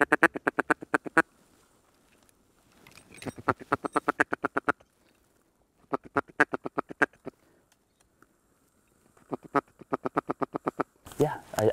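Ducks on a Michigan waterfowl hunt quack in repeated rhythmic runs, loud and close, with short quiet gaps between bursts and a louder flurry at the end.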